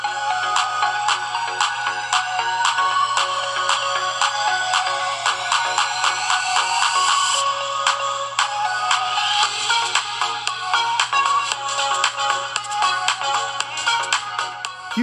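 A song plays through the small built-in speaker of a WiMiUS Q2 baseball-sized portable projector, a bright, chiming, bell-like melody with a steady low drone, continuous and fairly loud throughout.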